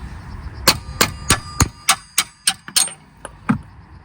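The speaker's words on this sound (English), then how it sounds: "So I'm undoing the locking nuts." Loud metallic clanks ring out from work on the locking nuts of a VW Beetle 1.9 TDI steering rack, about a dozen sharp hits and knocks in an uneven rhythm, close by with faint background hum.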